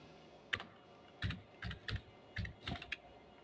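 Fingers type on a computer keyboard while entering figures into an Excel spreadsheet, with about six short clusters of crisp keystrokes, some single taps and some quick double presses, close and clear with no speech.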